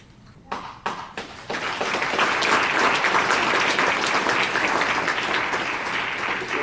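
Applause from a church congregation during an evening Advent Rorate Mass, starting with a few scattered claps that swell into steady, sustained clapping filling the room.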